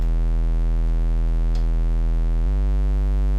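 Deep sub bass with added distortion and slightly rolled-off highs in a dark pop trap-style beat, a loud sustained low tone that holds steady then shifts pitch partway through, with no voices.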